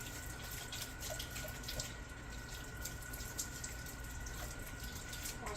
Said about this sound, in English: Wash my hands for the second time just to make sure they're nice and clean